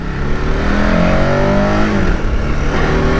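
A KTM 1290 Super Adventure S motorcycle, ridden without a quick shifter, accelerating hard, its engine note climbing steadily in pitch, loud and close, with no one talking.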